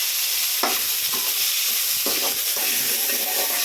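Radish pieces drop into hot oil already crackling with mustard and fennel seeds, in a pan for a cabbage and radish kuzhambu. Steady close sizzling continues alone, with brief stirring scrapes and bursts as ingredients go in.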